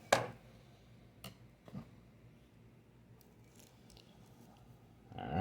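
Scissors snip through the old hair of an erhu bow while the knot is cut away, giving a few faint, sharp clicks spread across an otherwise quiet stretch, with a louder rustle at the end.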